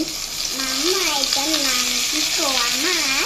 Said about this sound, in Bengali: তেলটা গরম হয়ে আসছে বন্ধুরা। আমি এখন পোয়া মাছগুলো একে একে দিয়ে দিচ্ছি।